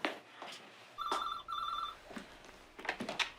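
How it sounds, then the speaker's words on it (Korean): An office telephone rings twice in short electronic bursts, clear and moderately close, amid faint movement and rustling in a quiet room. "전화 바꿨습니다."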